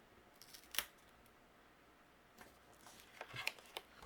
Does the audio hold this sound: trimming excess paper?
yes